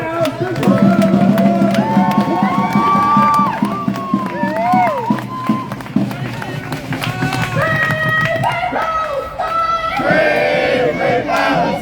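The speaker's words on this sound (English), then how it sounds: "Hey, a big round of applause for HL." Rally crowd at a Free Palestine demonstration in Melbourne, loud cheering and whooping voices mixed with scattered clapping, sustained and boisterous throughout with shouted voices rising and falling.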